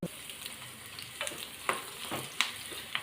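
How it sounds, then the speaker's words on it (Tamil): Sun-dried vegetable vathal fry in hot oil reused from frying cauliflower, with a soft, continuous sizzle. Light stirring scrapes and taps come a few times a second, close and quiet, with no voices. "அந்த எண்ணெய் தான் இப்போ எடுத்துக்கிறேன் வத்தல் வறுக்கிறதுக்கு"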